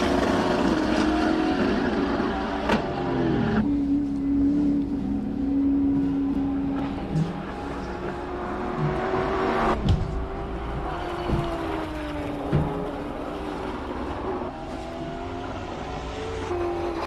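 Race cars climbing the hill at the Simola Hillclimb, a sustained engine roar with shifting revs and gear changes, carrying from a moderate distance with some tire noise.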